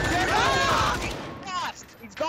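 Rapid video game gunfire crackles in quick bursts under excited shouting from players, fading partway through as the voices continue over quieter game sounds.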